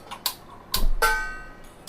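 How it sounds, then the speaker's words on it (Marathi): A gas stove burner is lit under a large pot with a few sharp clicks of the igniter, followed by a brief whoosh as the flame catches, close and fairly quiet. "गॅस पेटवून घेतेय"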